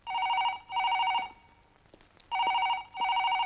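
A telephone rings in repeated double bursts, loud and close, with a short gap and a few faint clicks before it resumes.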